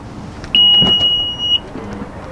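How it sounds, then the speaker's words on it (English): A 2019 Honda Passport's hands-free power liftgate gives one loud, close electronic beep lasting about a second, held at a steady pitch over a low background rumble. No one speaks. "So just wave your foot under the bumper to open it,"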